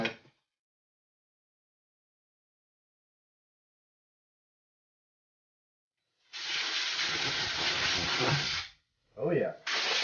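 Loud burst of compressed air blowing out a sealed part, a sustained broadband hiss lasting about two and a half seconds after a long silence, followed by a brief pause and two shorter blasts.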